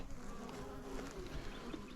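Bees swarm around a hive, giving a faint, continuous buzzing drone with no voices over it.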